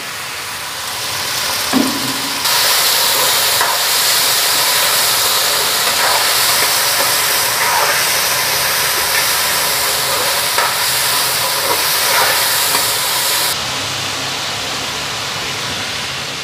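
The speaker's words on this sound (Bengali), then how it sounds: "তো এদিকে ভাজাটা বসাইয়ে দিলাম" Food sizzles and fries in a hot pan, a loud, steady hiss close to the listener that stays constant throughout, with small pops and clatters of stirring on top.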